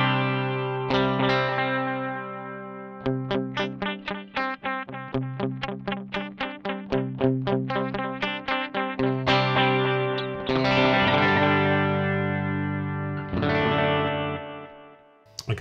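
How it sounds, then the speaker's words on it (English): An electric guitar runs through an EHX Canyon delay pedal in analog tape mode with distortion, playing rapid picked notes whose echoes repeat and smear, with sustained gritty chords at the start and end. "analog tape mode, where you get more degradation. And it'll start to distort as well."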